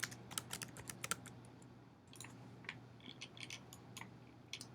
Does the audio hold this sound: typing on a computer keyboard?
yes